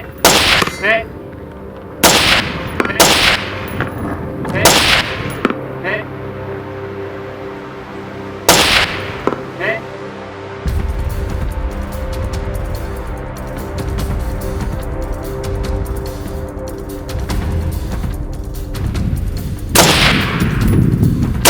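Gunshots ring out at a shooting competition: several loud, sharp reports in quick succession early on, then a long stretch of rumbling background noise before a final burst of shots near the end.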